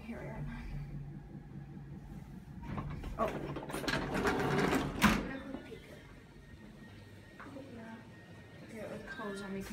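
An old Otis traction elevator at the Marlborough Hotel in Winnipeg runs with a steady mechanical whir and ratcheting, gear-like clatter that swells midway then settles, heard close under people talking.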